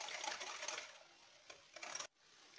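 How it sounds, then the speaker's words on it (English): A whisk beats egg into oil in a bowl for cookie dough, a quiet, steady rapid clicking and scraping with a brief pause near the end. "And now we're going to add in the egg. Just going to give that a good whisk."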